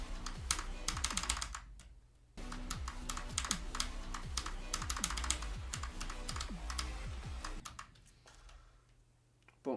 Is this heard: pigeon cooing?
no